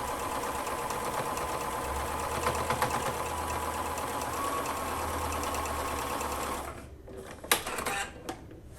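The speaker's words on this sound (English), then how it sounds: "took them back over to my sewing machine and stitched those 2 halves of the square together" A sewing machine stitches a quarter-inch seam joining two fabric halves of a quilt block, running steadily for several seconds with a rapid mechanical stitching rhythm, then stops, followed by a few light clicks and handling noises.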